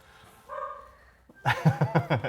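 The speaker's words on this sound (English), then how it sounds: "Somewhere a dog begins barking." A dog barks in a rapid series of about six close, loud yaps after a brief higher whine, set within a fantasy tabletop role-playing session.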